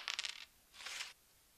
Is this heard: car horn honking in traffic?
no